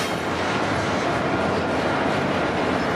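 A CPKC freight train heading out and slowly picking up pace, heard as a steady, loud rolling rumble of rail cars with faint clickety-clack throughout, no voices.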